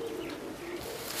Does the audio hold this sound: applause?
no